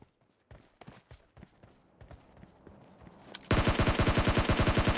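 Gunfire from PUBG Mobile Lite: scattered single shots and short bursts early on give way to a loud, sustained rapid automatic burst of evenly spaced rounds filling the final second and a half, with no talking.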